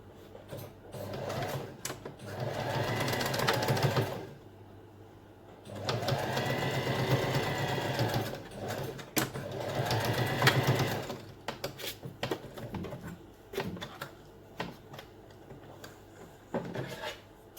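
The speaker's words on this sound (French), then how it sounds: "nous pouvons aller à la machine, faire une couture de haut en bas" A sewing machine stitches a seam from top to bottom on a hair scrunchie, whirring in several steady runs of a few seconds each, separated by pauses, handling noises and brief fabric rustles, close and alone.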